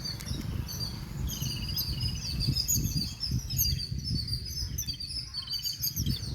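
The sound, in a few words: small birds (sparrows) chirping among trees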